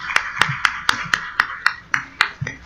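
A few people clap for Esmeralda at an academic conference session, a sparse, steady run of about ten sharp handclaps spaced roughly evenly, close and fairly loud with no voices over them.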